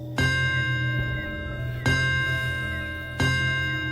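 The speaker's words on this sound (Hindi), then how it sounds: "वो जो घंटी की आवाज थी वो एकदम टेंट के बाहर से आने लगी" A hand bell rings in three separate strikes outside a tent, each ringing tone lingering and fading before the next, fairly close and clear with no voices, set as an eerie horror effect.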